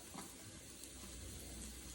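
Onion hits a preheated pan and sizzles steadily while making marinara for spaghetti and meatballs, a constant, fairly quiet hiss of frying with no talk.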